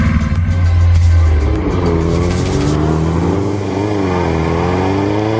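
A Kawasaki ZX10R motorcycle engine stumbling as it runs on a single cylinder: a loud, close, uneven roar whose pitch wavers and sags rather than climbing smoothly.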